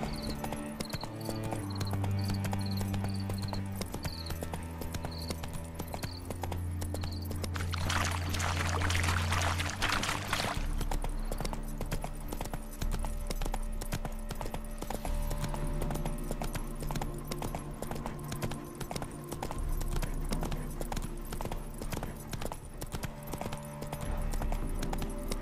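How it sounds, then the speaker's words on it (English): Roach, the horse in The Witcher 3, walks along with steady clip-clopping hooves over a continuous bed of game music and ambience, with a brief washing burst partway through. "Spooking my horse."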